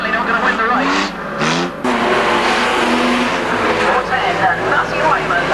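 Unlimited banger race cars tear around the Swaffham oval in a Nutcracker meeting, engines roaring loud and continuous with revving and tyre noise, under a commentator's steady talk.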